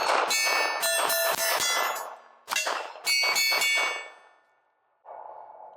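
A Beretta 80X Cheetah .380 ACP pistol produces a series of sharp, ringing metallic clangs and clacks as its decocker and slide are worked, close and loud, in two quick clusters followed by a brief lower tone.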